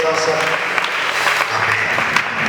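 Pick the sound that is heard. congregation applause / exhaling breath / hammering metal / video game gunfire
congregation applause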